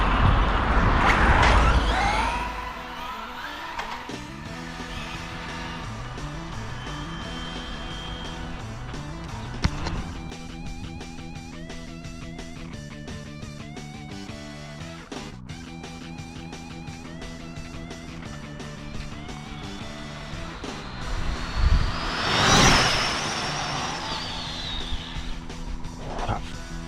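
A Tamiya TT02 radio-controlled car with a Limitless motor on 8S batteries speeding past, a loud rising and falling electric whine with sharp pass-by sweeps at start and near the end.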